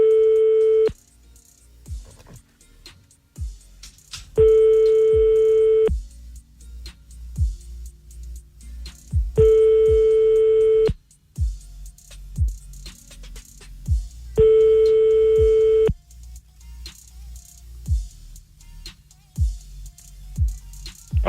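A phone line rings out on a French radio show during an outgoing call: four long, evenly spaced ringing tones, each about a second and a half, separated by longer gaps, with soft background thumps and murmurs between rings.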